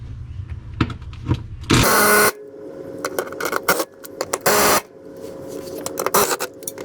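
A power tool zips out transmission bell housing bolts during a transmission swap, giving several short whirring bursts with longer buzzing runs between clanks and shop noise, close and fairly loud.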